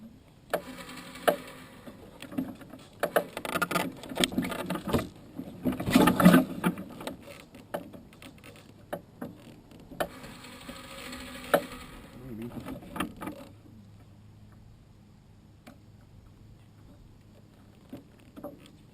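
A pull-behind lawn dethatcher towed across a yard in Amana, Iowa gives off an irregular rattling and clattering of tines and mechanism, loudest in bursts during the first half before dropping to a quiet low rumble.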